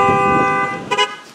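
A car horn sounds in a short, bright burst, with a steady harmonic blare followed by a quick double toot near the end, fairly loud and with no voices present.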